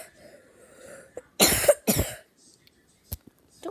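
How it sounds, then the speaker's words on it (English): Two loud, harsh coughs in quick succession, preceded by quiet murmuring and followed by a couple of small clicks. "Don't be coughing on me."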